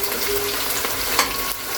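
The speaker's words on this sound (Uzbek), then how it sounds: "yaxshilab qovurib olamiz" Onions sizzle in a hot pan of oil while being fried golden for plov, a short, steady hiss with a faint stirring scrape near the microphone.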